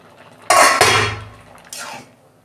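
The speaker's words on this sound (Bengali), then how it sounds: "দেখুন বন্ধুরা আমি ঢাকনা খুলছি।" A lid lifted off a cooking pot of taro leaves with chickpeas and coconut, two loud close metallic clanks and scrapes, then a softer clatter a moment later.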